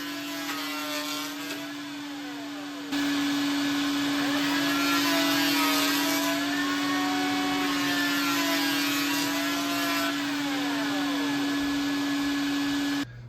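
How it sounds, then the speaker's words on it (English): A power planer trims down a door edge to fix the gap. Its steady, close, high-pitched whine rises as the blades cut into the wood, holding at constant loudness for about ten seconds before stopping. "now I can continue planing down like this to get that gap right"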